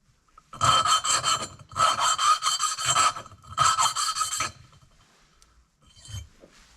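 Three bursts of harsh rhythmic scraping and rasping, loud and close, each lasting about a second, followed by a quieter trailing rub, as a hone works a Briggs engine cylinder on a Cub Cadet RZT17 mower, growing smoother.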